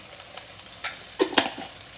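Ginger garlic paste frying in a pan for Andhra-style chicken fry: a soft, low sizzle with a few sharper scraping stirs near the end.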